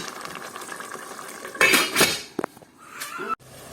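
A spoon stirs Nigerian chicken and fish stew in a metal pot, with scraping and clinking against the sides, a louder burst of scrapes midway, then softer stirring and a final knock.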